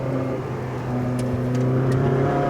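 A 597bhp Ferrari 458 Speciale engine pulls hard on a race track, its tone holding steady and then rising as it revs, loud and close with no talking.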